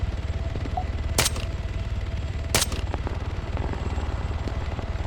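Gunfire in Arma 3 King of the Hill: two sharp shots about a second and a half apart ring out over a steady rotor-like engine drone, with a few faint distant pops afterward.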